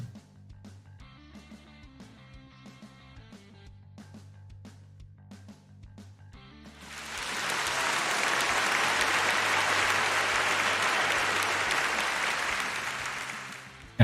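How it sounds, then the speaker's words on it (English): An applause sound effect during an art stream swells in after quiet background music, a dense burst of crowd clapping that holds steady for several seconds over the music and then cuts off. "I'll give you some applause for this."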